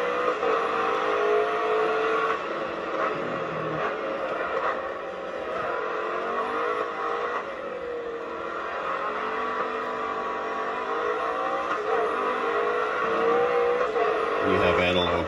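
A racing video game runs on a modded Arcade1Up NBA Jam cabinet, its car engine whining and revving with changing pitch, loud and continuous for the whole stretch, with a voice talking over it.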